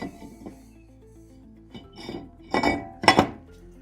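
The metal brake rotor of a 2005-2014 Mustang clinks and clanks as it is fitted onto the rear hub. Several close, sharp metallic knocks grow louder toward the end.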